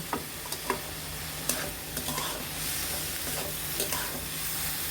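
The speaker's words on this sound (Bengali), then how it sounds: "এখন ভালোভাবে মশলাগুলো মাখিয়ে নিতে হবে" Carrot and onion are stirred with spices in a frying pan, a close sizzle under repeated spatula scrapes and taps against the pan, steady and without voices.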